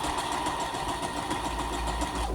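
A Brother FS101 portable sewing machine runs a zigzag stitch, its motor giving a steady, close mechanical whir with a faint rhythmic pulse and no voices.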